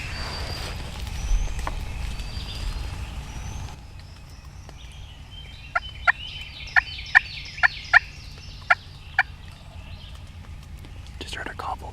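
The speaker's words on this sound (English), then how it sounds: "Just heard a gobble back" A wild turkey across the road, several hundred yards off, answers a call with a faint, brief gobble over soft outdoor background noise, while someone whispers nearby.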